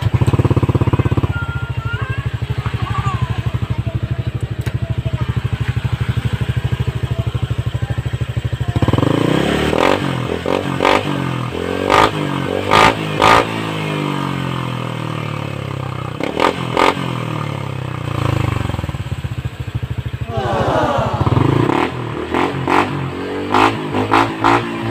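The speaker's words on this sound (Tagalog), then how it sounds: "Soundcheck natin kung magugustuhan nyo ang tunog ng MT8 pipe ko." A Honda Click 125i scooter fitted with an MT8 exhaust pipe idles with a steady, close rumble, then gets revved in repeated sharp bursts, with throttle blips rising and falling and mechanical clatter between them.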